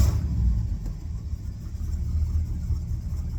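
The engine of a 1972 Ford F750 pickup truck runs close by after starting, a steady low rumbling idle that stays loud and even throughout.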